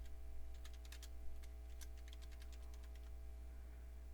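Rapid typing on a computer keyboard, a quick run of light key clicks for about three seconds over a steady low electrical hum.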